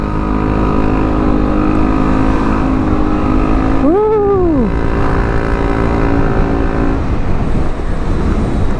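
A Yamaha XMAX scooter fitted with a Veloscope accelerates, its loud, steady engine drone joined midway by a tone that briefly rises and falls.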